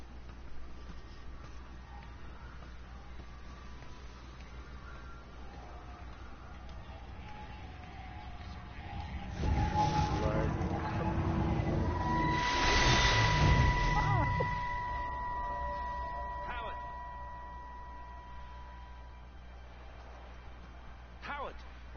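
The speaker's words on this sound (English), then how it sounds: "Ooh, train crash. Derailment." A train crashes and derails in the video game Everybody's Gone to the Rapture: a heavy rumbling roar swells over several seconds, then fades into a drawn-out metallic screech and whine against a low, steady hum.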